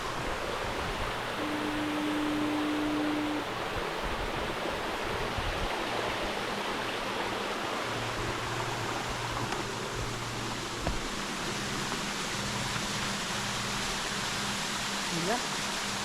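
Waterfall on Grand Manan Island, New Brunswick, pouring as a steady, dense broadband rush that holds evenly from start to end with no let-up, close and fairly loud, with a faint low hum underneath.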